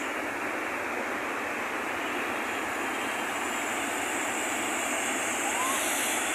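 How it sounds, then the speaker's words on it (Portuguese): Water pours over the Clebilon Lima Verde dam spillway as a steady, broadband roaring rush, constant and unbroken throughout, with no voices heard. "A queda d'água, como é lindo"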